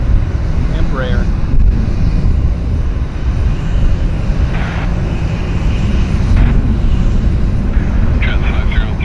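An Alaska Embraer jet at Vancouver International Airport makes a steady, loud engine roar that fills the whole stretch at close range.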